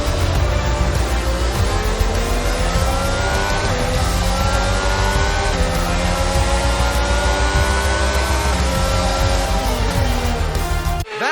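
An F1 car in F1 22 drives slowly back to the pits after the Canadian Grand Prix, its engine giving a steady, loud, sustained drone with shifting harmonic whine throughout, cutting off abruptly at the end.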